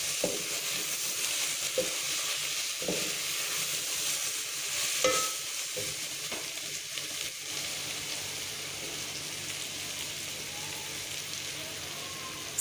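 Eggplant frying in a ready masala, a steady hissing sizzle with a few scattered stirring knocks early on, then settling into an even frying hiss.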